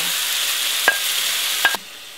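Chicken frying in a pot with a steady hiss of sizzling, broken by two or three brief scraping knocks as it is stirred.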